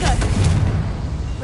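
A Confringo fire spell blasting in the Hogwarts Legacy video game, a loud, dense booming burst with a rumbling low end that carries through the whole moment.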